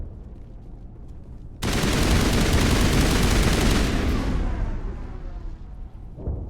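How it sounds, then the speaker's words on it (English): A dense, sustained burst of rapid gunfire in the Mass Effect video game, loud and close, rattling continuously for several seconds before tapering off. "someone's shooting"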